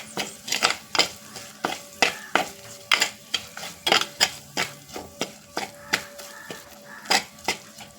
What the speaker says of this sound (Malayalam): ഇതൊന്ന് നല്ലവണ്ണം ഇളക്കി കൊടുക്കാം